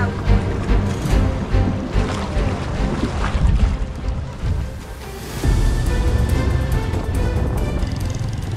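A small wooden sampan crossing open water toward Desa Limus, with a steady low engine-like rumble and wind buffeting the microphone throughout, briefly dipping before resuming strongly.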